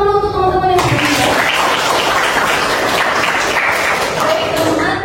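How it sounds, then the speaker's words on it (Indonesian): A classroom group claps for their classmates, a dense burst of applause that starts abruptly after a short moment of a teacher speaking and then holds steady at full volume. "kita kasih tepuk tangan dulu untuk teman-teman yang di sini"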